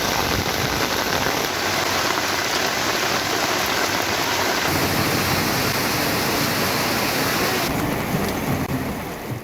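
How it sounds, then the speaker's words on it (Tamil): Heavy monsoon rain in Tamil Nadu pours down as a dense, constant roar of loud hissing for nine seconds with no gaps and no voices. "நீர்பிடிப்பு பகுதிகளில் பலத்த மழை பெய்து வருகிறது"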